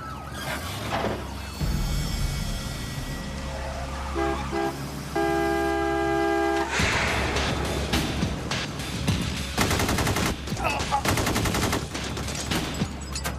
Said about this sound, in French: Il vient de tirer à travers son pare-brise sur un chauffeur qui s'enfuit en courant.